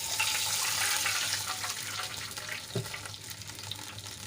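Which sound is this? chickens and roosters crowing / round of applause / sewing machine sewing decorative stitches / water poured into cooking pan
water poured into cooking pan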